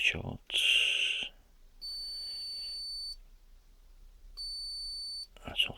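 A multimeter in diode mode, probing a shorted MOSFET, gives two sustained electronic beeps about a second long each, with short noisy bursts around them.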